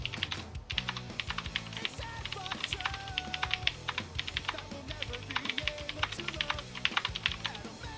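Rapid, steady typing on a computer keyboard during a Factorio session with a friend, dense clicky keystrokes throughout with faint voices and game sounds underneath.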